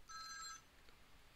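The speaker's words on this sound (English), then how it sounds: "sorry, got a phone call there." A telephone gives one short electronic ringing burst that lasts about half a second, faint and somewhat distant, then falls to quiet room tone.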